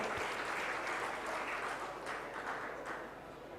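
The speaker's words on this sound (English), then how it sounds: "A big round of applause for her." Applause from a convention audience, a steady wash of clapping at moderate volume that holds throughout and tapers slightly at the end, with no voices over it.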